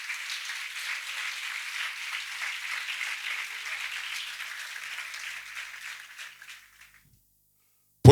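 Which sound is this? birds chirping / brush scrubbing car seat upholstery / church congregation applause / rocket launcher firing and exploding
church congregation applause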